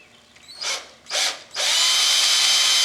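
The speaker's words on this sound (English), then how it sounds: "I think if I drill me a hole, 1/8 inch hole about right here" A power drill whirs in two short bursts, then runs steadily and loudly, boring a 1/8 inch hole into wood up close.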